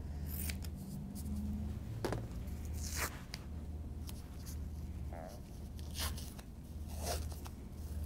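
Kinesiology tape pulled and applied to a seated person's shoulder, soft intermittent peeling rips and rubbing swipes, close and quiet, over a low steady room hum.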